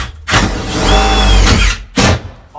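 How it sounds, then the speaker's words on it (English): Power drill pre-drilling screw holes in 3/4 inch wood for self-tapping screws during bus conversion ceiling framing: two loud, close bursts of motor whine, a longer one then a short one, with brief pauses between. "So I have to kind of pre-drill in a sense."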